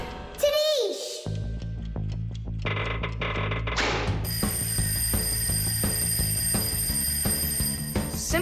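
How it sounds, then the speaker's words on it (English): A cartoon alarm clock rings in an animated scene, a steady bright bell tone running loud and continuous under background music and sound effects after a brief whistle-like sweep at the start. "I think I can hear my alarm ringing"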